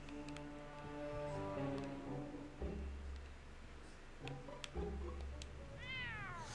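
A cat meows repeatedly in the Back to the Future video game, several drawn-out tonal meows at moderate loudness over faint game background sound.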